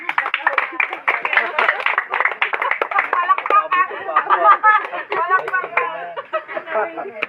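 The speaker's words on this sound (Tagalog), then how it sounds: "Palakpak!" A small group at a cottage prayer house claps together in a dense, fast burst of close handclaps lasting several seconds and tapering off slightly toward the end.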